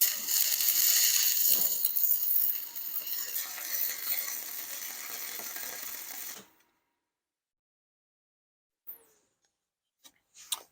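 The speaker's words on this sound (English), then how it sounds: "let me try to weld 2 pieces of 1/4-inch together here" A 110V stick welder joining two pieces of quarter-inch steel, giving a close, continuous crackling hiss for about six seconds that cuts off into near silence, followed by a couple of faint clicks.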